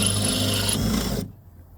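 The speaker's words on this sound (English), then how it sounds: "I just use a big bit on here, and I just drill it out" A drill with a big bit boring out a rivet, a steady grinding whir for over a second that cuts off abruptly, leaving quiet low rumble.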